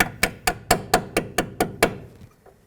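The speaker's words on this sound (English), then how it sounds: "hammer it into place" Hammer blows drive a strut bracket into place on a 2003-2007 Nissan Murano front strut assembly, eight sharp metallic strikes in a steady, close rhythm, then a final faint tap.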